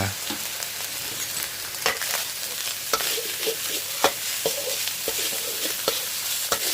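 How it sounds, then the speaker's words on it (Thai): Ham fried rice, seasoned with sugar, seasoning powder and sauce, stir-fried in a pan until dry: a steady close sizzle broken by sharp spatula scrapes and taps every second or so, with no talking. "ผัดไปจนแห้งเลยครับ"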